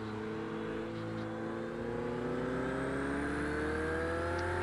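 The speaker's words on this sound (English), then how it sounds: "That engine sound." Race car engine in the Project Cars 2 racing game, a loud continuous drone with rising harmonic tones as it revs and accelerates, steady and close throughout with no talk.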